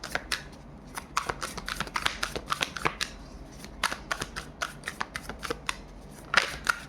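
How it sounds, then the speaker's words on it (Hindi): Tarot cards riffle and snap through a run of quick, close shuffles, dense flicking bursts with brief pauses before a final few slaps as cards are pulled. "मैं यहाँ से कुछ कार्ड्स पुल करना चाहूँगी।"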